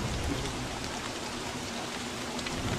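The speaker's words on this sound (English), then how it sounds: "Fucking rain, dude." Steady rain from the video game Don't Starve Together, a dense, even hiss of falling drops that holds at the same level throughout, with no voices over it.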